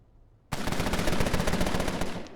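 Rapid automatic gunfire in the 1920s Chicago gangster game Empire of Sin, a loud sustained burst of close shots that starts abruptly after a short quiet moment and rattles on without speech.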